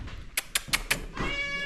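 A cat meows several times in quick succession, short bright calls ending in a longer drawn-out meow, fairly close with no talking.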